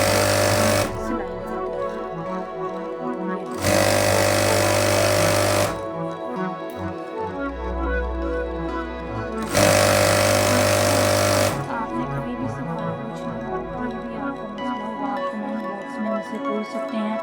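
A sewing machine stitches capri pants in loud bursts of steady whirring, separated by quieter stretches of handling and a low hum, with no voice over the machine.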